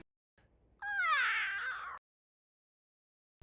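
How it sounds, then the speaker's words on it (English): A single drawn-out, eerie cat meow from an anime, rising and wavering for about a second, loud and close against silence. "That's the scariest cat I've ever seen."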